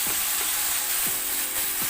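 Garlic, onion and tomato sauté in a hot pan with a steady, close sizzle, broken by a few light scrapes of a spatula stirring the mix.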